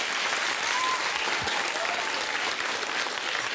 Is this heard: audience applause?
yes